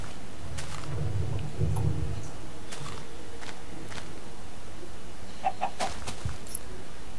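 Chickens cluck in a survival video game, a few short clucks near the start and scattered bird-like calls later over faint background noise, with no talk.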